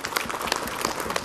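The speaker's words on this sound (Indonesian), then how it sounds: "Tepuk tangan sekali lagi buat Ustaz Riza Muhammad." Audience applause for Ustaz Riza Muhammad at an Islamic talk, a brief burst of dense clapping at moderate loudness with no voices over it.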